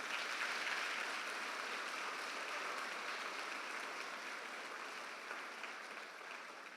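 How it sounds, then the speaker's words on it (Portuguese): Church congregation applauding during a worship service, a dense, steady wash of many hands clapping at once that holds throughout and fades slightly toward the end, with no voices over it. "Dá um aplauso lindo para o Senhor."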